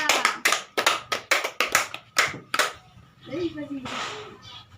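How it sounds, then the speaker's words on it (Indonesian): Children in a classroom clap hands in a quick run of about ten sharp, distinct claps, followed by a brief voice and some quieter room noise. "Tepuk tangan untuk Manda."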